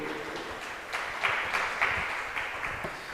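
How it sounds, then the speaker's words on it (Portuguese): A church congregation applauds steadily, a dense wash of clapping with a few louder bursts, sustained for a few seconds at moderate distance. "Você pode aplaudir ao Senhor?"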